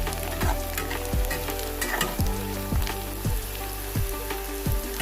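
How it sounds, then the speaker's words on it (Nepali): Water snail meat and fat fry in oil, with a dense close sizzle broken by a regular run of scraping stirs from a utensil, roughly one every half second. "यस सबै फ्याट्स रातो रातो भइगयो तेलमा फ्राई गर्नु"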